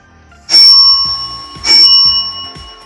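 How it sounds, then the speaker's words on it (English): Two bright electronic bell rings marking time running out in a debate, evenly spaced, each a sustained high ding with a quick decay, sounding clear and fairly close. "when the time runs out, the bell will ring twice."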